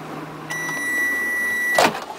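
A microwave oven heats 1.5 cups of water, its steady humming drone with a whining tone starting, running for over a second, then cutting off with a click.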